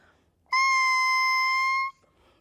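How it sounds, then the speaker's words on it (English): An oboe's double reed of two tied cane blades, blown on its own without the instrument, gives a loud, steady, thin buzzing tone that holds for about a second and a half before stopping abruptly. "It sounds like a mosquito when it's not in the oboe."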